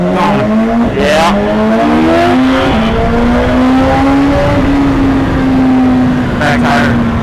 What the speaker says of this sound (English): I said the back tire spun a little bit.